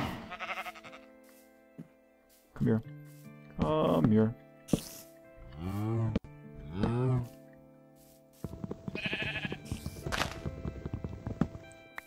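Sheep in the video game Minecraft bleat in several short wavering cries spaced a second or two apart, close and clear, with a man calling to them between bleats and game footsteps faint in the background.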